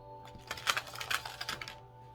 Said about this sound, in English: I'm just going to shuffle these by threes and cut as well